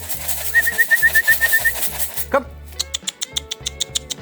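Young racing pigeons returning to their loft, with a repeated low rhythmic cooing close by, followed by a quick series of flapping or clattering bursts; a man calls out briefly between sounds.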